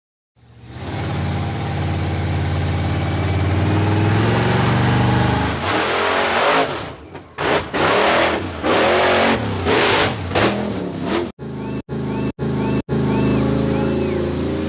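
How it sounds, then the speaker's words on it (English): Toy monster truck with a loud engine that idles steadily, then revs in choppy bursts broken by short gaps and sharp cutoffs near the end. "Monster truck."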